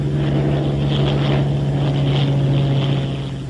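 A Bell P-39 Airacobra, the WWII fighter, runs its engine at takeoff power, giving a loud, steady droning roar with a strong low hum that holds throughout and eases slightly at the end.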